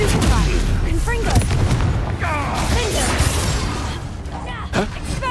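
Confringo spell explosions in the video game Hogwarts Legacy: loud booming blasts and magical whooshes over dense combat noise, with a voice calling out spells.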